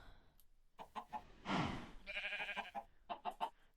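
Minecraft chickens clucking in a short burst of several quick, close calls with a brief squawk in the middle, fairly loud with no talk.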